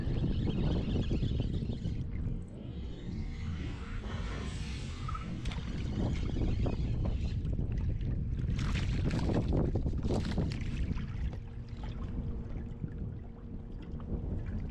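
Steady wind blowing across an open-air fishing spot, a continuous broadband rush buffeting the microphone with gusts and low rumble throughout, no talking.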